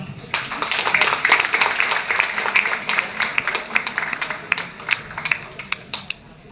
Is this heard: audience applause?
yes